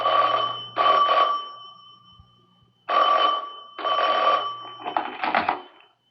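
Old-fashioned telephone bell ringing in several loud, close bursts with short pauses between, in a vintage radio drama setting.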